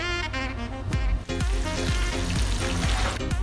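Loud, continuous sizzling and crackling of Southern fried shrimp frying in hot oil, with repeated scraping stirs and clinks of a utensil against the pot.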